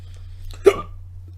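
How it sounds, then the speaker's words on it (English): A single sharp hiccup, close and fairly loud, breaks a steady low electrical hum in an indoor studio setting, with no talk around it. "I have the hiccup."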